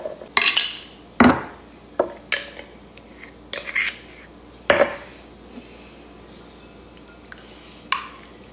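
Pistachio paste is worked into chocolate in a bowl for a Dubai-style chocolate, with repeated close scrapes and clinks of a utensil against the bowl at uneven intervals and quiet pauses between.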